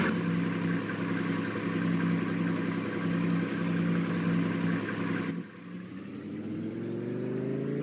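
Lamborghini classic car engine in Farming Simulator 22, a loud steady droning rev that holds, then drops suddenly and climbs again as the pitch rises through acceleration.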